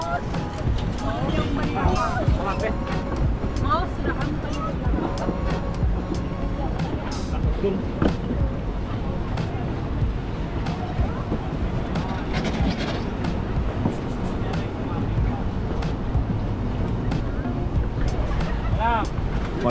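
Steady engine drone and rushing water from a boat underway on the sea while island hopping in Sabah, Malaysia, with wind buffeting and occasional voices in the background.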